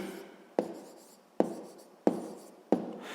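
Pen strokes scratch across a school notebook page as numbers are written by hand, four short close taps each followed by a brief fading scrape, with no talk.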